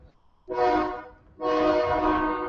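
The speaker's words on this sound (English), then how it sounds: "as the train goes by" A passing train sounds its horn in two loud, sustained blasts, a short one and then a longer one, over a low rumble of the rails.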